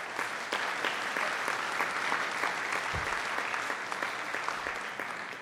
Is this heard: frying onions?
no